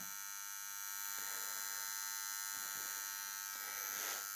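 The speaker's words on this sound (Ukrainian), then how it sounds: "Є характерний шум. Виходить з оцього імпульсного трансформатора." Faint, steady high-pitched electrical whine with a soft buzzing hum underneath from a pulse transformer in a Patriot 425 power unit, continuous and close, with no voices.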